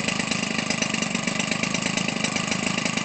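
A Weedeater Featherlite 25cc two-stroke engine converted for RC use runs steadily and close, its buzzy idle holding an even, rapid pulse without any revving or talk.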